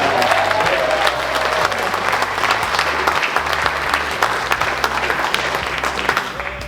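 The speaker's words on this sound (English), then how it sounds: "I think that's worth a round of applause for Randy once again." Audience applause at the Texas Sounds International Country Music Awards: a dense, loud, sustained wash of clapping hands filling the room, steady throughout with no voices over it.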